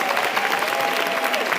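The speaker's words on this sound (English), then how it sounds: "I think that you deserve another round of applause." Audience at a women's summit in a convention centre giving a loud round of applause, a steady, dense burst of clapping filling the whole moment, with no speech over it.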